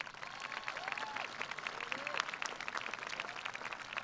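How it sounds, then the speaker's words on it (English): Applause from a large crowd at a high school graduation ceremony fills the space, a dense, even patter of clapping heard from a distance with a few faint voices mixed in. "Let's give them a round of applause"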